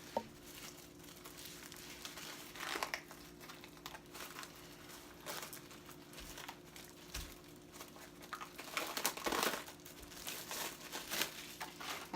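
Store-bought lettuce is pulled free of its plastic wrap, giving a steady crinkling and crackling of thin plastic throughout, close and fairly quiet, with brief louder rustles near the end and no talking.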